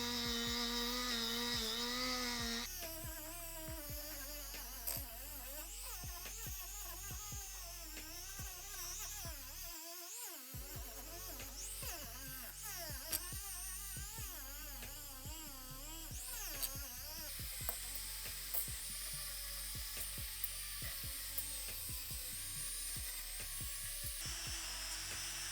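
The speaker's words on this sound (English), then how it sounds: "So I'm going to bust out the Dremel tool with the brass wire cup." A Dremel rotary tool fitted with a brass wire cup brushes a dirt bike engine case, giving a continuous high whine with shifting pitch that stays fairly faint and steady, broken by one short gap.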